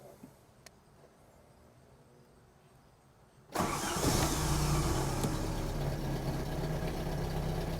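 A Saab car engine starts at about three and a half seconds after quiet background hum, catching immediately and settling into a steady, loud idle with no throttle applied.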